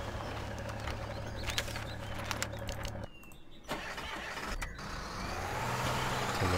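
A Ford F-350 truck engine in the Spin Tires off-road driving game, revving and pulling away from deep mud with a steady motor drone, a brief dip, then rising louder as it drives off.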